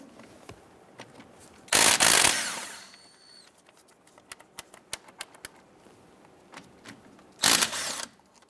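Two 17mm caliper bolts are loosened and removed on a 1999-2004 Jeep Grand Cherokee, two loud rattling bursts of tool noise about six seconds apart, with quiet clicks and handling sounds in between.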